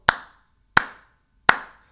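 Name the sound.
slow hand clap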